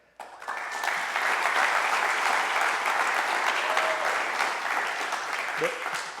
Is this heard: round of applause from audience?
yes